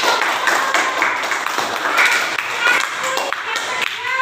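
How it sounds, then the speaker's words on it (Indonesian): Children in a classroom clap their hands together in a lively burst, with a few sharp claps standing out and voices mingling underneath. "Ya, betul sekali, tepuk tangan."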